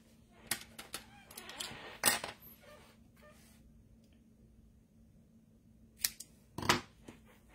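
Scissors cutting a piece of card stock in half, sharp snipping strokes in short clusters with a quiet pause before two final louder snips, close by with no talking.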